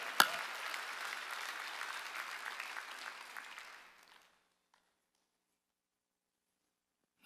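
A church congregation at a Sunday worship service bursts into applause, a dense wash of clapping that holds steady for about four seconds and then stops abruptly, leaving near silence.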